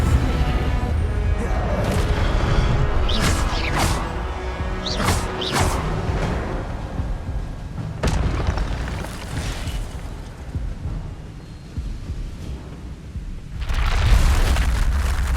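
Magic spell effects from the Hogwarts Legacy video game, including Expelliarmus casts: loud, dense booms and bursting blasts, with several sharp cracks early on and a rumbling swell near the end.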